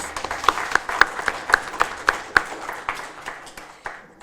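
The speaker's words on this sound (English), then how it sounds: "giving a very warm round of applause and a welcome to our newest Australian citizens" A crowd at an evening citizenship ceremony in Australia claps warmly for new citizens, a steady patter of many hands that thins out and fades toward the end.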